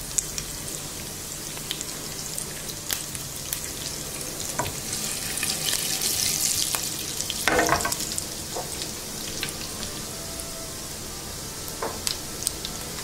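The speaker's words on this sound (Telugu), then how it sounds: "ఆయిల్ వేడయ్యాక ఎండుమిరపకాయలు మనం తాలింపు పెట్టుకున్న వాటిని వేసేసుకోండి." Dry red chillies and tempering spices crackle in hot oil for a mint moong dal, a continuous close sizzle with scattered pops and spits that swell briefly in the middle.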